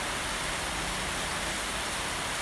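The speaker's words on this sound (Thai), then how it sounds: "ทำไมกล้องเบอร์เบอร์เนี่ยฝนตกจริง ๆนะนี่" Steady rain falling outdoors during a vehicle handover of a pearl-white 2020 Isuzu Hi-Lander Cab4 3.0 M pickup, a broad constant hiss with no gaps and no voices.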